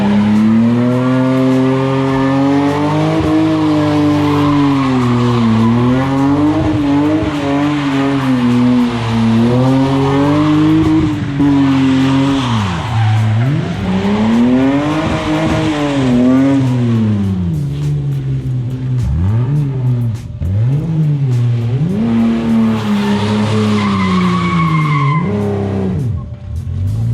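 BMW E30 with a slipping, leaky clutch drifting, its engine revving hard and rising and falling in pitch while tires squeal and skid almost continuously, loud and close for the whole run.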